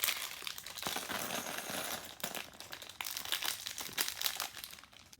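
A plastic bag of LEGO pieces is opened and handled up close, giving continuous crinkling and rustling of plastic with occasional small tearing sounds and a faint clink of parts, no talking.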